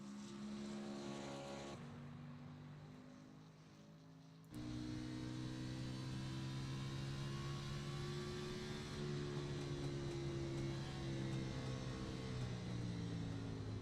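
A stock car's engine in a racing video game holds a steady, even drone along the straightaway at the Circuit of the Americas while the driver saves fuel. It runs loud and continuous with a short dip before picking back up, and no one talks.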